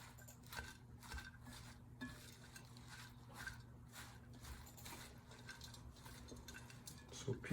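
Kale salad with cranberries and sunflower seeds being tossed together in a bowl: soft, faint, repeated scraping and light clinking of utensils against the dish, steady throughout with no voices.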